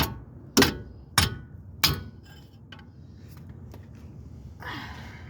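A hammer taps a flathead screwdriver three times on the rear brakes of a VW Corrado, giving sharp metallic clinks about half a second apart, followed by quieter shuffling and handling noises.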